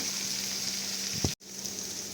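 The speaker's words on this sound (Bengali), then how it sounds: "জাস্ট হালকা একটু হালকা করে ফ্রাই হবে।" Chopped vegetables fry lightly in a pan for spicy semolina, a steady, close hiss of sizzling oil with one brief clink before the sizzle carries on.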